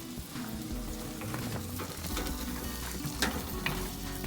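Prawns fry in a pan for a stir-fry, giving a steady, close sizzle with soft crackles and occasional louder pops, and no voices.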